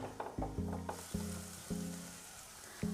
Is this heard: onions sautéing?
yes